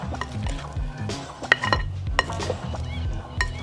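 A chicken and potato casserole is tossed with seasonings: a utensil stirs and scrapes steadily against a dish, with frequent clinks and soft knocks, close and moderately loud.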